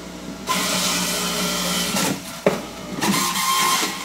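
Electric juicer grinding celery for green juice, a steady loud whirring motor drone with brief dips and a sharp clunk midway as stalks are pushed in.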